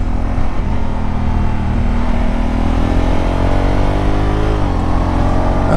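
A Honda Africa Twin Adventure Sport runs loud and close on a country back lane, its engine drone holding steady and then dropping in pitch near the end as it shifts or eases off.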